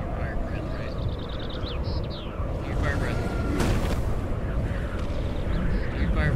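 A dragon's fire breath in the game Citadel: Forged With Fire, a dense, continuous roaring rumble that stays loud and steady throughout, with faint bird-like chirps and cries layered on top.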